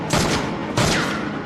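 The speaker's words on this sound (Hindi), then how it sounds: "टपाटप गोलियां मारो और बढ़ते चलो।" Gunfire from an action scene in the Hindi-dubbed South Indian film Jailer (2023), two loud close bursts of rapid shots about half a second apart, each trailing off in a noisy decay.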